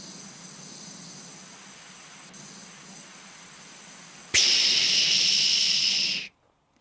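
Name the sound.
pressure washer jet spray in video game PowerWash Simulator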